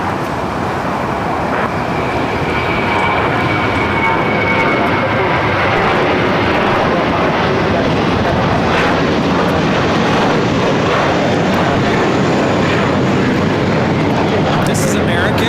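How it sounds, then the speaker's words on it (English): An American Airlines Airbus A321 takes off at LAX, its engines a loud, steady broadband roar that holds throughout, with people talking over it. "This is American 1002 taking off to Dallas, Fort Worth on the A321."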